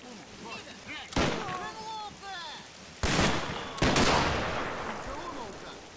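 Machine gun fire in a 1919 Hungary-versus-Romania battle in the InterWar mod for Assault Squad 2, with three loud, sharp bursts rolling into decaying rumble over a busy battlefield while voices talk faintly beneath.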